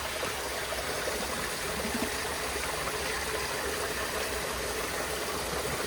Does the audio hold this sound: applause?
no